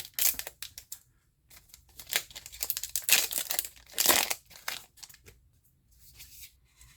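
Crinkly tearing and crumpling of foil One Piece card game booster packs being peeled open, their double-glued seams resisting, in close, faint bursts separated by quiet gaps.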